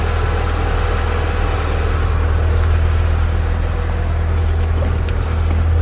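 A Honda CB7 car engine idling steadily just after a push-button start, a low constant rumble that stays even and unbroken throughout, close by with no talk over it.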